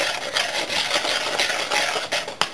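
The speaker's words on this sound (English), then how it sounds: "And then we're going to whisk that in as well." Ingredients for a Bakewell tart, including almond extract drops, are whisked in a bowl, giving a close, steady scraping and rubbing rhythm with a few sharper clicks against the bowl.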